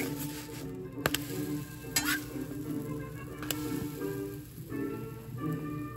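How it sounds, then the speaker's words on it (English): Pancake batter sizzling on a griddle heated to 375 degrees, a steady close fry hiss with a few sharp clicks of a spatula, and no talking. "when you're cooking them on 375 degrees on the griddle"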